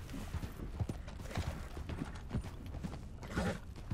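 Video game horse hooves clip-clopping at a steady trotting rhythm, fairly close, with a low rumbling background underneath.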